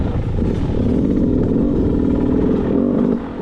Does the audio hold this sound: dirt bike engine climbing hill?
yes